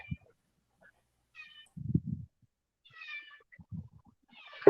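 A house cat meows several times at irregular intervals, short nasal calls that are fairly close, with soft low thumps and handling noises between them and no speech.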